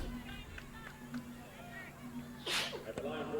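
A single sharp sneeze bursts out near the end, set against a background of murmuring voices and indoor crowd noise.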